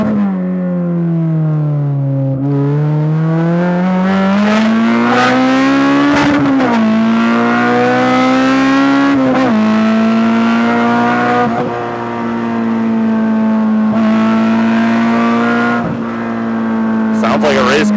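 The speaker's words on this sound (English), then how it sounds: "Sounds like a race car to me." A loud K20A engine in an EG Civic hatchback revs and roars up and down continuously, with a brief voice heard under the noise.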